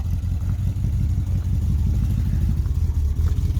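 A vintage street machine's engine idles with a loud, close, lumpy rumble, its low throb pulsing steadily after the idle has been adjusted, with no voices over it.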